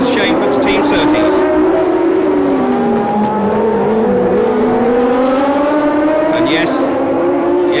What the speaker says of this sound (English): The car has the most fantastic sound to it.